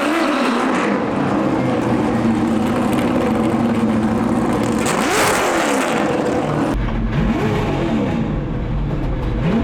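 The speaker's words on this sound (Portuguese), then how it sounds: "Falhando o motor, velho." A Stock Car race car engine with a misfire runs loud and close for about ten seconds, revving rough and uneven with sputtering dips and a sharp drop in tone near the end.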